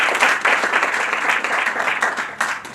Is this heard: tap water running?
no